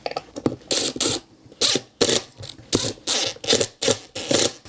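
Screws being driven tight on a BOOSANT 72-inch solid wood ceiling fan during assembly, a string of close, sharp ratcheting clicks in short regular bursts with brief pauses between them.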